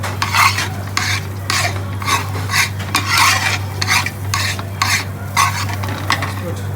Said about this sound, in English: so all the rice needs to be coated in the ghee